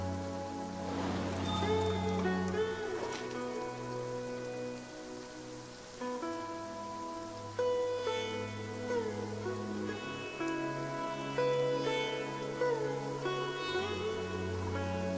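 Steady rain downpour in Genshin Impact, a continuous close hiss of falling water running beneath sustained music tones throughout.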